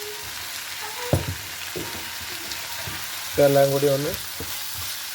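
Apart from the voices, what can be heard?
sautéing sauces for garlic honey chicken in a pan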